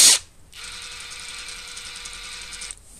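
A Draper Expert 3/4 inch brushless impact wrench spins freely after undoing a nut, giving a sharp opening burst followed by a steady mechanical whir that runs for about two seconds and then stops.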